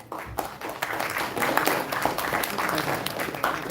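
An audience applauds at a university tech orientation, sustained dense clapping that builds quickly and holds steady throughout.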